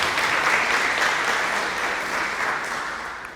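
A church congregation applauds during a sermon, a dense, steady wash of clapping from many hands that slowly softens toward the end.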